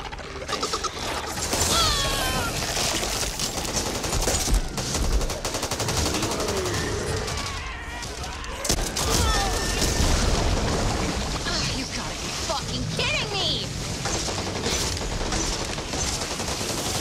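A grenade explosion and sustained gunfire in the co-op zombie shooter Back 4 Blood, a dense loud barrage of shots and booms running throughout with several players' voices talking over the chaos.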